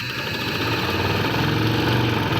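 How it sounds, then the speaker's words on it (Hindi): A sewing machine stitches the shoulder seam of a garment with a summer neckline design, running in a steady loud whir for about two seconds before stopping abruptly, with no talking. "बटन टेक बनाने के बाद ना अब हम यहाँ पे सिलाई लगाएंगे"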